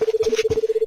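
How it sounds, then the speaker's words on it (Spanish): A telephone rings in an RPG video game, a steady rapid electronic trill with evenly pulsing tones, close and alone for under a second. "Ok, sonó el teléfono."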